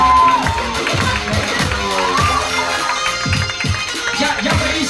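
An audience at a stand-up comedy show applauds and cheers loudly, with continuous clapping and crowd noise filling the room and scattered whoops over the top.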